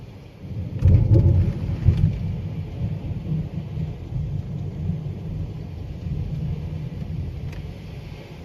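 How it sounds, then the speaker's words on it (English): A July thunderstorm rumbles with a heavy thunder roll near the start, then keeps up a steady wash of rain and low rumbling, fairly loud and close, with no voices. "this is a wild storm"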